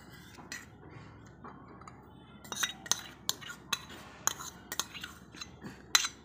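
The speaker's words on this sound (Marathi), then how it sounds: "तर आता मी ते 2 चमचे खजूर चिंचेची चटणी घालणार आहे" A spoon clinks and taps repeatedly against a bowl while date-tamarind chutney is added to a bhel mixture, a close series of sharp metallic ticks over quiet room noise.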